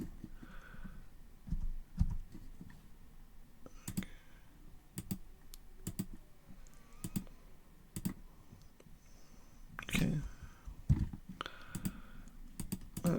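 Sparse, quiet computer mouse clicks during play of Leisure Suit Larry 2, single sharp ticks spread irregularly over a low hushed background, some spaced a second or two apart.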